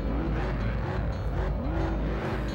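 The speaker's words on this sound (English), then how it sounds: "I hear the engines. Vroom, vroom, vroom." Car engines rev in the Test Drive racing video game, a steady low growl with rising and falling pitch sweeps, moderately loud and continuous over a short stretch.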